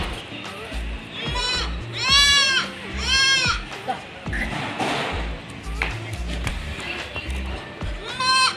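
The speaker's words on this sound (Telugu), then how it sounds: "ఇదైతే నిన్ననే తెచ్చిన మేకని" A recently bought goat with a fever bleats several times in loud, wavering cries close by, the calls spaced out across the stretch with thumps and rustling between them.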